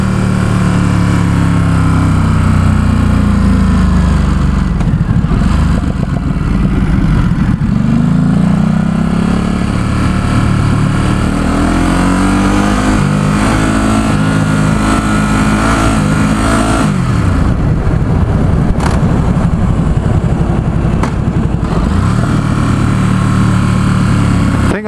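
A 2017 Ducati SuperSport S motorcycle engine on a test ride in San Francisco, loud and close throughout, rising and falling in pitch as the rider revs and shifts through gears, with a steady growl and wind underneath.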